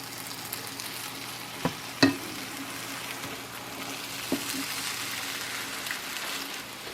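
Egg frying with leftover tamales in a pan for a tamales a la Mexicana scramble, a soft continuous sizzle with a faint hum and a few small clicks of utensils.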